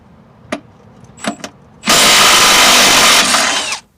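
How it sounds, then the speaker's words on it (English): A power wrench with an 18mm socket removes the top nut of a Jeep rear shock absorber. A few faint clicks come first, then a loud, steady mechanical whir runs for about two seconds before cutting off. "Then use an 18mm socket to remove the top nut."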